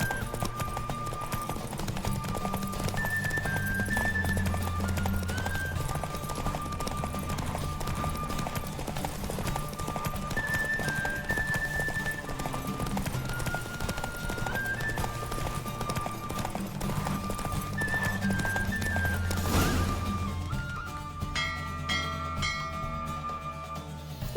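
A horse gallops in a race in The Witcher 3, its hooves clopping in a rapid, steady rhythm under game music, with a brief swell near the end.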